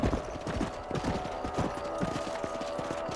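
Horse hooves clip-clop in a steady, rapid rhythm through Red Dead Redemption gameplay, the hoofbeats close and prominent over a faint background bed of game sound.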